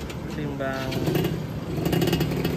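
Motorcycle fitted with a Killer Whale aftermarket exhaust revving lightly, a raspy crackling engine note rising slightly, with someone talking over it.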